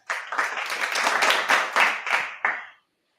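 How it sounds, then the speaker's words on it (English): A talk-show audience gives a warm round of applause, a dense, steady burst of clapping lasting about three seconds before stopping abruptly. "we got to give her a nice warm round of applause"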